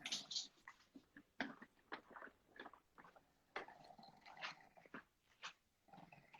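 A small excited dog makes close, irregular yips, snuffles and scrabbling noises in quick bursts, with brief pauses between them.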